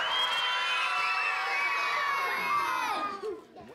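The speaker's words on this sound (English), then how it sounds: "I want to hear everybody shriek like there's a bird." A group of kids shrieking loudly together in a high, sustained chorus that holds for about three seconds and then quickly trails off.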